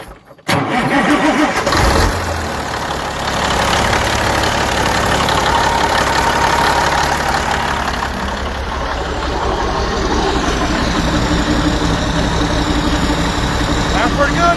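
A Caterpillar diesel engine in a Peterbilt 359 truck, with a newly installed and retimed number 3 fuel nozzle, cranks briefly and catches, then settles into a loud, close, steady idle clatter.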